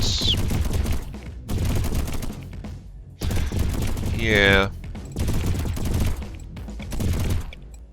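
Rocket turrets and cannons fire in a video game, sounding as sharp rapid bursts and rattling volleys in several separate clusters, with someone talking between them.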